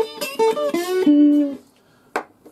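Slide guitar played with a bottle on an intro: a few close, clear gliding notes sliding in pitch and sustaining, then a brief pause and a single short pluck.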